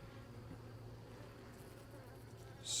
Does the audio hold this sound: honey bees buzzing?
yes